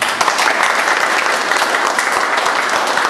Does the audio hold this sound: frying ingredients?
no